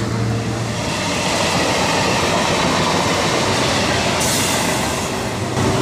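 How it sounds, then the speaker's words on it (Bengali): A Burdwan–Howrah down local train passes with a loud, continuous rumble of wheels and carriages, its tone shifting briefly near the end. "Down Bardhaman Howrah local."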